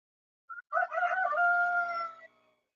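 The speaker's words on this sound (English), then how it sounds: "I got myself some new chickens. They're sitting out in front of the house right now" A rooster crows once outside in front of a house, a short note followed by a loud, drawn-out cock-a-doodle-doo, close and clear against silence.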